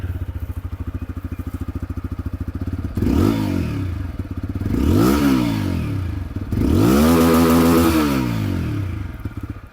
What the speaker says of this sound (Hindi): अब दोस्तों यहाँ पर जो अपाचे की आवाज़ है वो भी आप लोग सुन लीजिए। ये बुलपअप एग्जॉस्ट आप लोग को यहाँ पर मिल रही है।